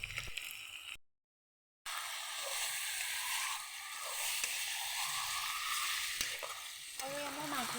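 Goat meat frying in a hot pan, a steady loud broadband sizzle that runs almost throughout, broken by a brief silent gap near the start, with faint stirring noises.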